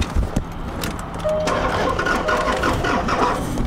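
2010 Land Rover LR4 HSE engine cranking without catching, a steady rhythmic starter churn that follows a few clicks and keeps going without firing, with no talk over it.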